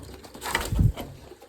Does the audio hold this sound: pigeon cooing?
yes